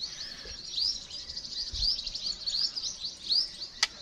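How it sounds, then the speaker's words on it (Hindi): A small bird in a rest house garden at Soon Sakesar, Khushab, gives a run of bright, quick high chirps, repeated every half second or so. The calls are fairly close and stand alone over quiet outdoor background. "और पीछे छोटी सी चिड़िया भी एक है,"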